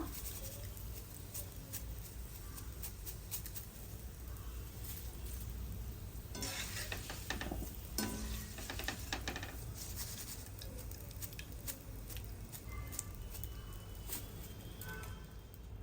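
Curry leaves and peanuts frying in oil while chiwda is being made, a faint crackling sizzle with scattered spoon scrapes and clinks against the pan that grow busier midway.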